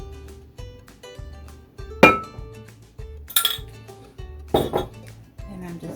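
Cake batter being mixed from egg, butter and milk stirred into flour, with a utensil scraping and clinking against the bowl in uneven knocks and taps, plus a couple of sharper clanks over a low steady background hum.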